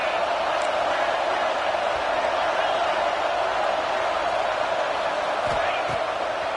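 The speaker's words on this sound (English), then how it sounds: "This crowd bringing the energy and noise early." A dense, steady roar from a football stadium crowd at a Texas A&M versus Ole Miss game fills the air continuously. A few faint thumps are scattered through it.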